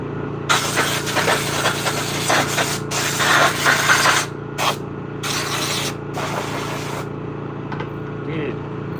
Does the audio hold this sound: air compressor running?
yes